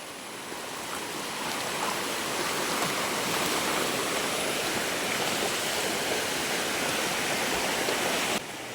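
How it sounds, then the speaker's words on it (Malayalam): Strong floodwater rushes along a riverside on a flooded route near Puthur in Thrissur, a loud, steady broadband roar of moving water that holds constant throughout with no voices. "നല്ല ഒഴുക്ക് പോലത്തെ ഫീൽ ചെയ്യൂട്ടോ കാരണം വെള്ളം ഇവിടെ തള്ളണ കാരണം"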